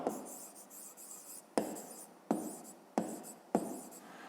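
Pen writing on paper, close and quiet, in a series of short scratching strokes with sharp starts roughly every half second to second.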